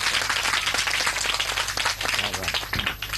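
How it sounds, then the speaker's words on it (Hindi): Loud, sustained applause and clapping from a crowd at an event in Pakistan, dense and continuous throughout with no pause. "तालियां लगाएं, तालियां, शाबाश"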